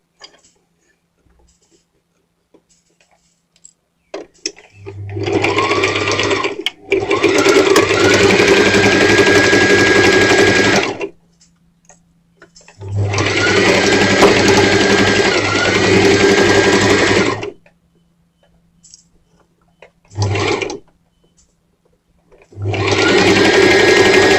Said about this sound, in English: So we're gonna turn our machine on and we're gonna start sewing.